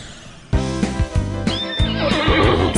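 A horse whinnies loudly and close by, with hooves clip-clopping in a steady rhythm underneath, all in a short, punchy burst with no talking.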